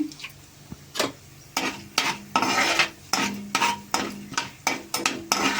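Fenugreek, coriander and cumin seeds dry-roast in a pan, stirred in a regular rhythm of about ten scraping, rattling strokes over a light sizzle, close and without talk.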